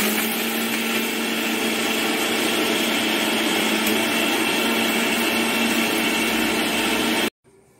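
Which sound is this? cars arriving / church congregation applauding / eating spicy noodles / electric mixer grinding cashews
electric mixer grinding cashews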